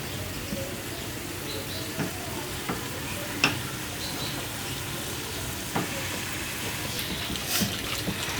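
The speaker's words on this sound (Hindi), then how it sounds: "ठीक है, हम इसे अच्छी तरह से मिक्स करेंगे।" Boneless marinated chicken is stirred and fried in a pan with a little oil, giving a steady low sizzle broken by scattered scrapes and knocks of the spoon against the pan, fairly close and with no talk.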